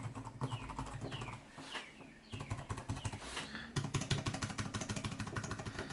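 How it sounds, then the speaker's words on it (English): Fast, uneven clicking of keys on an OMOTON Bluetooth keyboard, close by, with brief pauses between bursts of typing. "Now I'll just type some random stuff"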